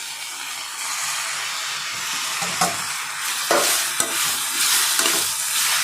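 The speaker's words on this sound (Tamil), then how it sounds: "வெங்காயம் இந்த அளவுக்கு வதங்கி வந்தோடனே தக்காளி சேர்த்துக்கலாம்" Chopped tomatoes hit a pan of sautéed onions for tomato chutney, bringing a steady loud sizzle with scraping stir strokes and a few sharper clatters throughout.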